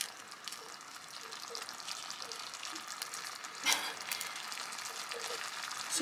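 Blended garlic and shallots fry in hot oil with a steady close sizzle, broken by occasional stirring scrapes and a brief louder crackle midway.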